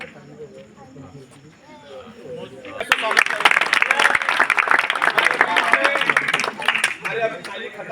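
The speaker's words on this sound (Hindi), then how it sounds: "एक बार जोरदार तालियों से स्वागत" A crowd at a village wrestling gathering in India bursts into loud, dense applause after a quieter stretch with someone speaking, the clapping sustained and close for several seconds.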